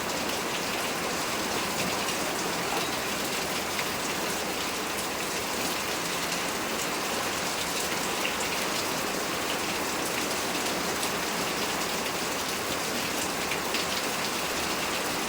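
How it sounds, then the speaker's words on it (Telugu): Steady rain pours down in a village setting, a dense, even patter and hiss of drops on surfaces that continues unbroken, moderately loud with no talk. "వర్షం చూస్తారా?"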